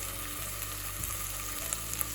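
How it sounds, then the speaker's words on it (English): Garlic and shallot frying in a pot give a brief, even sizzle with a low hum beneath and a couple of faint stirring ticks. "We'll add the remaining garlic and shallot. And we'll let that cook together for a little bit."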